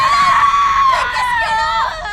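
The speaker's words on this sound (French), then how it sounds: "Comment elle hurle." A woman screams loudly and continuously, her high, harmonic voice wavering and breaking over about two seconds, with no other voices present.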